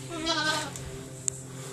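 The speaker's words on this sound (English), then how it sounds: "And here are the goats." Goats bleat nearby, a wavering call at the start followed by quieter bleating and a brief sharp click.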